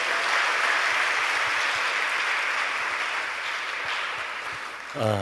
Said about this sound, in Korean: 박수로 영접해 주십시오